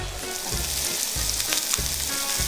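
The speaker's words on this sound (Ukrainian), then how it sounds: "Ставимо смажити підчеревину" Steady, loud sizzling of pork belly frying in a hot pan, continuous crackle with occasional soft stirring scrapes.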